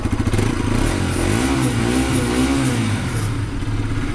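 A 2024 Bajaj RS 200 motorcycle engine runs steadily at normal revs indoors, giving a loud, close, throbbing idle with a slight rise and fall in pitch and an echoing, enclosed tone.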